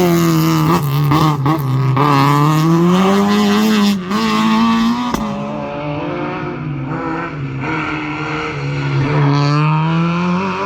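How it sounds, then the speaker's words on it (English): A Ford Escort rally car racing around a karting track, its engine screaming loudly and continuously with rising and falling revs as it accelerates and shifts, heard close and without voices. "Barry Mead's Escort certainly did. This thing is frantic"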